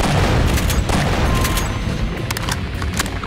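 Dense, loud video-game gunfire from Doom 2 with the Project Brutality mod as a chaingunner is killed, a continuous roaring fusillade of overlapping shots and booms with no pause.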